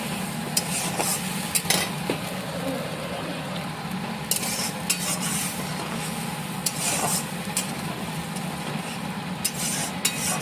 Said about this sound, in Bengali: একবারে দিয়ে এখন ভালো মতো কষিয়ে নেবো।